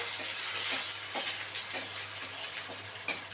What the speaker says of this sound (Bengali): এখানে বাদাম আর কারি পাতাটা দিতে হবে